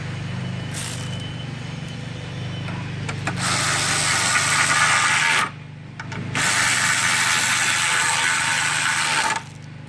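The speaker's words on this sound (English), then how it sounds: "You're gonna simply tighten those down as well." A power driver or ratchet snugs down 10 millimeter front fender bolts, making two sustained whirring bursts of a few seconds each over a low background hum.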